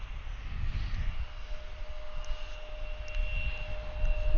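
Virgin Atlantic Airbus A330 bound for Manchester at Atlanta airport, a distant, steady low jet engine rumble with a faint sustained whine, continuous across the moment with no speech.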